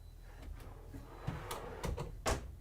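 A drawer in the six-drawer pantry of a 2022 Newmar Ventana 4369 motorhome slides out with a few soft rolling thumps and clicks, close by in a quiet interior.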